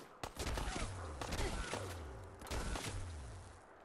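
Enemy gunfire in the Fallout New Austin mod, with a rapid burst of sharp shots and then further quick volleys over about four seconds, loud and close with a faint voice underneath.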